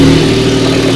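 A white Lamborghini Aventador SVJ engine runs loudly nearby, giving a steady, deep mechanical drone with no pauses.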